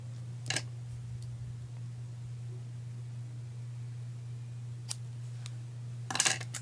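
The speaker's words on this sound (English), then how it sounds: "I need to trim this tail a little bit more." Scissors snip the tail of a ribbon bow in a few quick, isolated cuts against a faint steady hum, with a final cluster of snips near the end.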